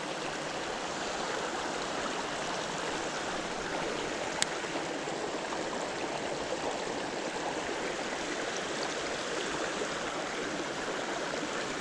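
Brook trout stream flowing in a steady, close rush of water, even and continuous throughout with one faint click, no voices.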